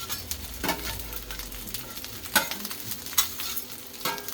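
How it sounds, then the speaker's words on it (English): Loud, busy sizzling of chicken curry and fried rice frying on a hot flat-top griddle, with scraping stirs and clanks from a spatula. "when you're frying up like this, I can't see a problem with it"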